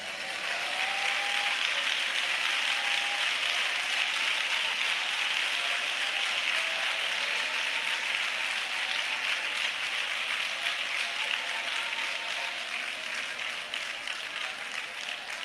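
A church congregation applauding in worship, a dense, continuous wash of many hands clapping that holds steady and loud for the whole stretch, with no pauses.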